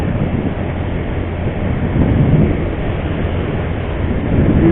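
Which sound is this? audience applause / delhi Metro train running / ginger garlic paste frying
delhi Metro train running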